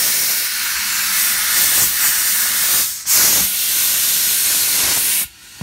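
Air hisses loudly and continuously as a tire bead seats on its rim during a car tire service, with a couple of short breaks before the rush stops abruptly.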